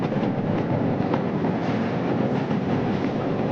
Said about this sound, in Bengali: ইতিমধ্যেই স্টেশনে ট্রেন এসে পৌঁছেছে